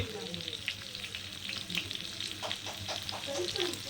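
A whole fish roasting on a hot tawa gives off a constant, close sizzle with crackling pops and no other sound.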